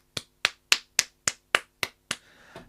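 Eight sharp, evenly spaced hand claps from a single person, close and crisp, followed by a faint rustle; a small one-person round of applause with no talk.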